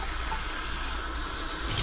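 Water runs steadily into a pot of rice, a continuous broadband pour with no talk over it.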